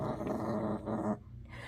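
A pet dog named Phoebe gives a low, close, rumbling growl while drinking water, sustained for about a second before stopping abruptly.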